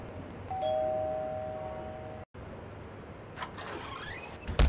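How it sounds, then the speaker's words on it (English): A house doorbell rings on Halloween night, one clear chime tone that sustains and fades, heard once against steady outdoor background noise. "we're gonna have to ring their doorbell"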